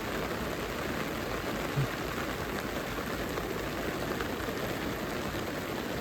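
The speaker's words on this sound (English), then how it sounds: "Oh yeah, it's raining." Rain falls during a carp fishing match at Etang de Mimi: a steady, even hiss of rainfall fills the whole stretch without a break, with no voices over it.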